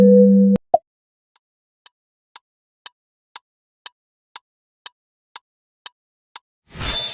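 A notification jingle for the Amazon brand: a short tonal chime and click, then a string of evenly spaced soft pings about half a second apart, ending in a brief burst of noise.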